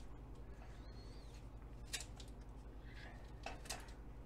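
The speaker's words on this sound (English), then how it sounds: "So I just take a pair of scissors and just cut off about a third of an inch to" Kitchen scissors snip the tips off artichoke leaves in a few quiet, separate crisp cuts over a low steady hum, close and faint, with no talking.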